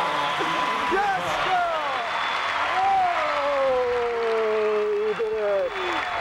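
A crowd at the 1996 U.S. Gymnastics Championships women's competition applauds a performance with sustained, dense clapping and cheering, while commentators talk over it throughout.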